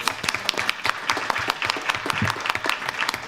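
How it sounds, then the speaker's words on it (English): Audience applause at a school board meeting, a dense, sustained patter of many hands clapping in a hall, steady and moderately loud with no speech over it. "Let's give her a round of applause."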